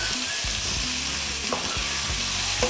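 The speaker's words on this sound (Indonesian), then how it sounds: "Perbawangan sudah mulai layu, lanjut kita masukkan tomat." Chopped tomatoes go into a pan of half-wilted sautéing shallots and are stirred, a steady close sizzle of frying with scraping stir strokes throughout.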